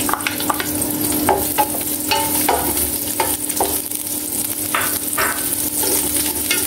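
Garlic and onion sautéing in oil for a chicken curry with eggs, a steady close sizzle with repeated scraping stirs of a spatula against the pan, no voices.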